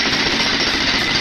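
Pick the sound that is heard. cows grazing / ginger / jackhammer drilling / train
jackhammer drilling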